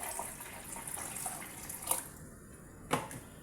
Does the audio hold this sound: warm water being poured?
yes